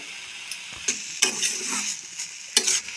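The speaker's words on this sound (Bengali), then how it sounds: "আদা কাঁচা লঙ্কা দিয়ে আবার একটু ভালোভাবে গাজরটা কষিয়ে নেব।" Grated carrot sizzles in a pan with ginger, green chili, salt, turmeric and spices for carrot paratha, steady close frying hiss broken by scraping stirs.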